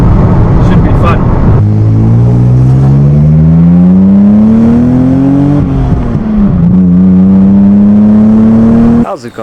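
A BMW car engine revs and pulls close by, its pitch rising steadily through the gears, dipping briefly, then climbing again under continuous loud engine noise before cutting off at the end.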